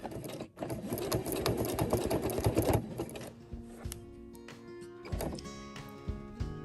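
A sewing machine free-motion quilting fabric runs in a fast, loud mechanical stitching burst for about three seconds, then slows into intermittent short whirs and clicks close by.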